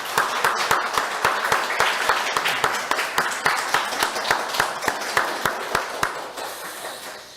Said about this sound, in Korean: 우리 힘과 용기를 주는 마음으로 박수로 한번 격려하도록 하겠습니다.